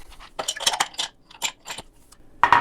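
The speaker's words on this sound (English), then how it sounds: "I'm going to add some ice." Ice dropped into a cocktail glass of rum and lemon juice, a run of close, bright clinks and rattles in quick bursts, with a final louder clatter at the end.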